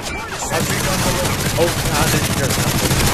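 Rapid gunfire from Scorpion guns in an Xbox game, a dense, continuous stream of shots filling the whole stretch at steady loudness, with game noise mixed in.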